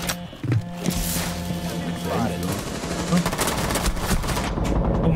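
Rapid bursts of gunfire in Rainbow Six Siege crackle over a steady engine-like hum, with a voice talking underneath throughout.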